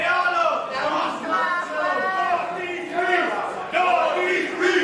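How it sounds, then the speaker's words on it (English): A wrestling crowd at an independent show chanting in unison for Alec Price, loud rhythmic massed voices rising and falling in repeated phrases, filling the hall. "this crowd right here seemingly vocally in favor of Alec Price"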